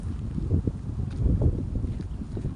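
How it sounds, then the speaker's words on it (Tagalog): Steady wind buffeting the microphone with low, gusty rumbling and faint rustling near a hanging bridge, no talk. "Ang hangin."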